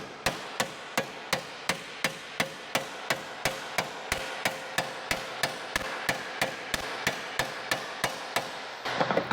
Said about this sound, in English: we're trying to hammer a flat spot here while leaving this bubble of information in the metal